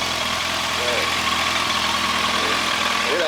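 A Kawasaki motorcycle fitted with an aftermarket exhaust, idling close by with a steady, throaty rumble throughout, with faint voices underneath.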